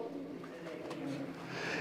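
Soft, low cooing of pigeons, including blue pigeons kept by a fancier, steady and fairly faint, with almost no talk over it.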